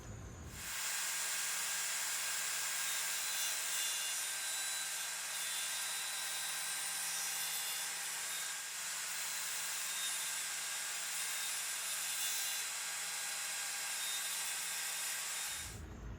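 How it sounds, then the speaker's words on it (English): A power saw cuts a wooden board for a piano backplate into shorter sections, producing a loud, steady hissing roar that runs for about fifteen seconds before stopping abruptly. "So we're just going to cut sections out until we can get to that length."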